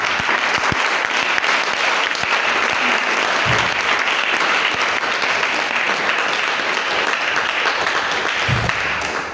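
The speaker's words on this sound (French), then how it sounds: "On peut acclamer Dieu pour le Gabon." A church congregation applauding and cheering, dense steady clapping from a large crowd filling the space loudly and continuously throughout, with a couple of low thumps mixed in.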